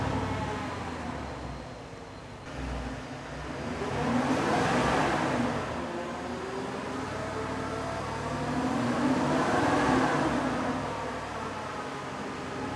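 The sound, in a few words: Porsche Cayenne stock exhaust revving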